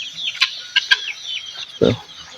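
Guinea fowl among native chickens in a backyard flock give several sharp chattering calls, with a louder harsh lower call near the end, over a faint rural background.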